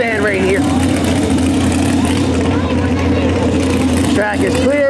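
A pulling tractor's engine runs at a county fair tractor pull, a loud, steady droning rumble that holds throughout, with a voice talking over it.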